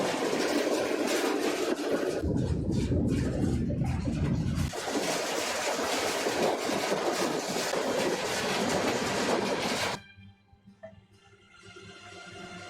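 A freight train rolling on a railroad, a loud sustained rumble and rattle of cars with rhythmic clacking and a heavier low roar midway, cutting off abruptly to quiet ambience near the end.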